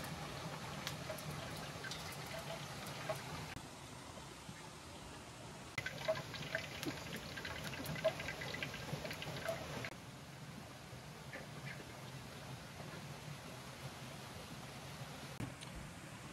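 The Sumuran Seloprojo waterfall on the slopes of Mount Telomoyo, Magelang, Indonesia: a steady, even rush of falling water continues without a break, a broad splashing wash with no voices.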